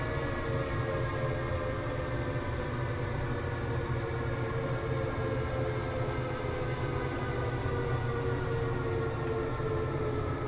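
A train running in the Train Sim World Rapid Transit video game, a steady droning rumble with a sustained whining motor tone, continuous and even throughout without talk.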